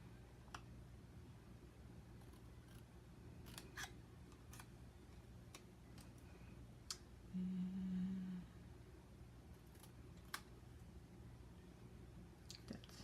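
Scissors snip paper in scattered, crisp clicks against a quiet room hum, some cuts close together and others spaced out, faint and close-up.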